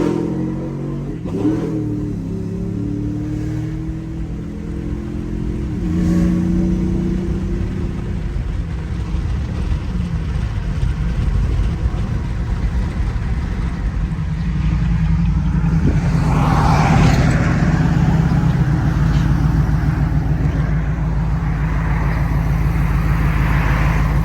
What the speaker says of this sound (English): You guys can hear the exhaust.